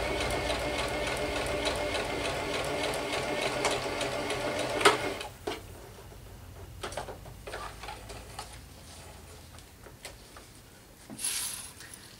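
Sewing machine stitches along a rough fabric edge of a bellydance coin scarf, a steady whirring run for about five seconds, then stopping and giving way to scattered handling clicks and one brief final burst.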